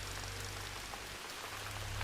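Heavy rain falls steadily, a dense, even hiss of drops on surfaces with a low rumble underneath, continuous and close throughout.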